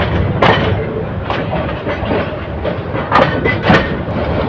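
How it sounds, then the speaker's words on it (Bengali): The Balaka commuter train slows as it enters Gafargaon station, with a steady heavy rumble, recurring clickety-clack from wheels crossing rail joints, and a few sharper thumps. The sound is close and continuous with no voices. "তার গতি কমে দিয়ে গফরগাঁও রেল স্টেশনে প্রবেশ করছে"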